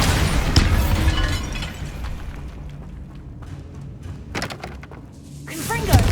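A Bombarda explosion spell goes off in the Hogwarts Legacy game, a loud burst at the start that decays into rumbling debris, followed by further sharp cracks and a rising blast near the end, with a voice calling out spell names.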